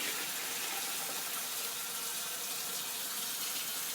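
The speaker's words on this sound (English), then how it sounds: "we will add water." Water poured steadily from a container into a pot of rice and dal mixture for cooking kitri, a continuous close rushing and splashing with no talk.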